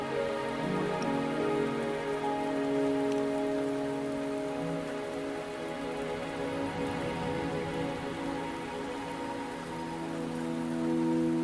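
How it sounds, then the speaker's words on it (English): Steady rain falls throughout in the video game Wuthering Waves, a constant patter layered over sustained tonal music; no voices. "Don't worry, the rain won't last much longer."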